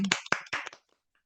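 A few scattered, distinct hand claps from an audience at a Hindi-language network marketing talk, brief and close, then stopping into silence.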